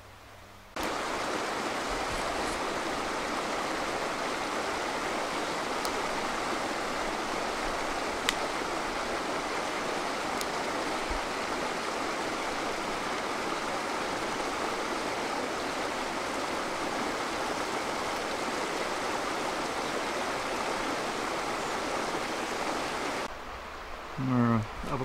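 Creek water rushing steadily in a Pacific Northwest forest, a loud, continuous broadband roar of flowing water that starts abruptly and fades out near the end.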